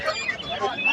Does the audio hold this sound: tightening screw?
no